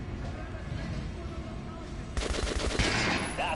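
Gunfire during target practice in the video game Metro Last Light: a low ambient backdrop, then a sudden loud rapid burst of shots about two seconds in that continues to the end.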